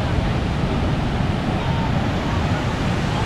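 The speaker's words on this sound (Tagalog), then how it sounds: "Grabe yung alon." Ocean surf rolling onto a beach at La Union, a steady loud broadband roar of crashing waves with wind noise, continuous throughout with no distinct pauses.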